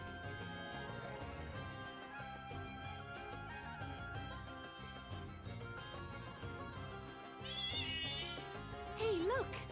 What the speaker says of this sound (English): That's got to be the cat the shopkeeper was talking about, no?